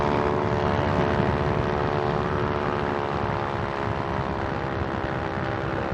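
An ultralight aircraft's engine and propeller drone steadily in flight at cruise throttle, a loud, constant buzzing roar close up that never lets up.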